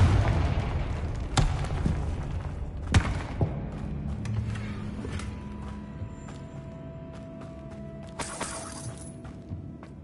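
Confringo blasting spell in a Hogwarts video game, heard as several sharp, loud explosive impacts with shattering debris, spaced apart over a low rumbling bed, with a final cluster of bursts near the end.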